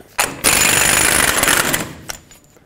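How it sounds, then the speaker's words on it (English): A loud, rapid rattling burst from an impact wrench with a 36mm socket spinning off the front axle nut of a 1997-2003 Ford F-150, lasting about a second and a half, with a short tap afterward. "with a 36mm socket, we can remove the axle nut"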